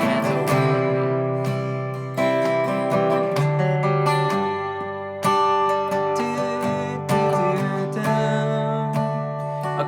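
Acoustic guitar strums a chord progression, a steady sustained strumming pattern with rich ringing chords, close and alone.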